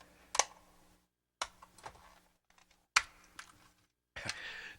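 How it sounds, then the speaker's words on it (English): A plastic 8-track head cleaner cartridge made by Cell Sound Tech is pried open, giving four sharp, close cracking snaps spaced apart with brief rattles after them, with no voices. "Let's crack this one open"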